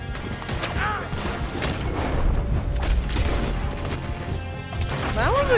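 Gunfire crackles through a chaotic Red Dead Redemption 2 gunfight, with repeated shots and booms in a dense, continuous mix under a busy in-game background.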